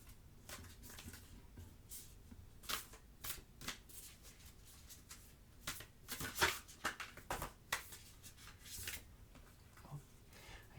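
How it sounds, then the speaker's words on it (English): Moonology oracle cards are shuffled close up in a quiet room for a tarot reading, with soft repeated riffling and flicking bursts of card edges continuing throughout. "let's pull you a Moonology card"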